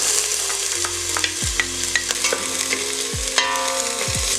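Butter and onions sautéing in a heated pot for risotto, a steady close sizzle broken by a few low clanks and scrapes of a spoon stirring against the pot, with no talk.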